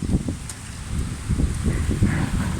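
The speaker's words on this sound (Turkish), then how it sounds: "Çok da rüzgar var bugün. O kadar rüzgar var ki." Steady gusty outdoor wind buffeting the microphone, a broad low rumble with rustling, continuous and fairly loud throughout.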